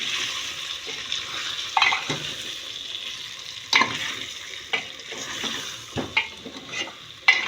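Spice masala for stuffed eggplant curry is stirred in a hot pan, sizzling steadily with irregular scraping strokes and sharp clinks of the spoon against the metal, close and alone.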